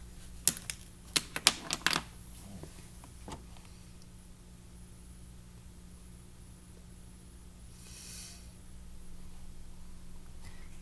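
A short burst of computer-keyboard typing enters a search, with several quick key clicks close to the microphone, followed by quiet room hiss.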